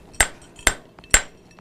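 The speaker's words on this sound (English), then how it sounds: "I'm going to taper the end, and I hammer it a little bit" A hot steel bar being tapered with a hammer on an anvil at a blacksmith demonstration: four sharp, ringing metallic blows at an even pace, close and loud, with nothing else around them.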